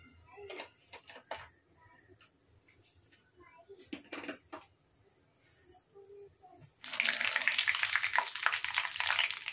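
Cumin, mustard seeds and dried red chillies sizzle in hot oil for a Bihari-style aloo bhujiya. The frying starts suddenly and loudly in the last few seconds, after quieter kitchen clatter and faint voices.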